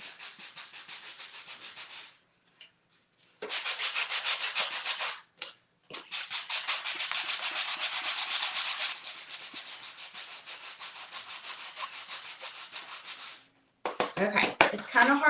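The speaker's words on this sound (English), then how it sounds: "I'm going to sand until I get a few more of those spots." Painted wood tree sanded by hand for a vintage finish, steady scratchy back-and-forth rubbing strokes in long bursts with short pauses, close and loud with no talk.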